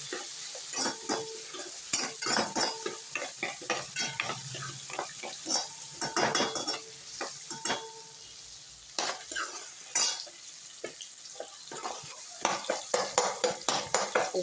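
Onions and spices with turmeric powder sauté in a pan, a spoon scraping and stirring in irregular clicks and knocks over a constant soft sizzle, close and fairly loud.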